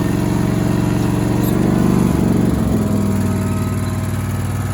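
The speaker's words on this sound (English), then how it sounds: "stump grinder, little Toro stump grinder." A Toro STX26 stump grinder's engine runs at a steady idle nearby, giving a loud, even mechanical drone with a throbbing low rumble that holds throughout.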